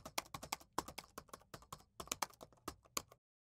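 Code being typed on a computer keyboard: quick, crisp key clicks in uneven bursts, close and fairly quiet, ending in a short silence with no speech.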